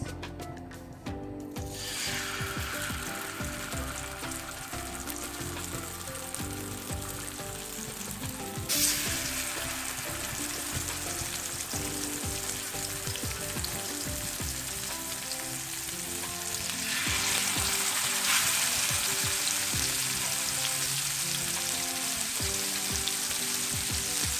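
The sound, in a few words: fish pieces frying in hot coconut oil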